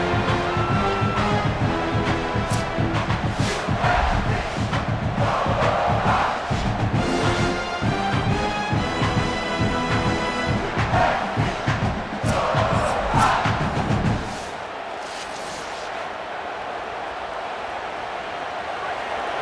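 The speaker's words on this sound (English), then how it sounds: "The roar of the crowd trying to fuel this defense to keep them pinned in their own end." A stadium crowd roaring during a Tennessee vs South Carolina game in the College Football 27 video game, a loud, sustained swell of cheering with band-like tones that drops away abruptly to a quieter murmur near the end.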